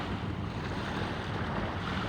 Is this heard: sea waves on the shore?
yes